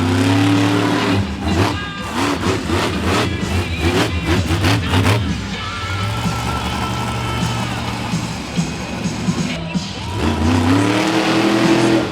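A monster truck engine revs hard during a wheelie at a Renegade Monster Trucks show in Gaithersburg, Maryland. The loud engine roar rises and falls over about twelve seconds and stays steady throughout.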